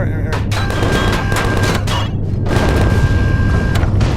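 Incoming weapon fire in the space survival game Empyrion Galactic Survival: repeated heavy booming impacts and bursts, loud and close, packed together across the whole clip along with a sustained tone.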